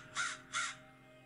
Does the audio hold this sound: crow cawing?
yes